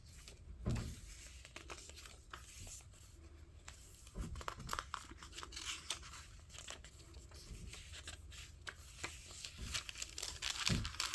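Crinkly handmade junk journal pages being handled and flipped, a steady stream of close paper crackling and rustling with a few louder crunches, no voices.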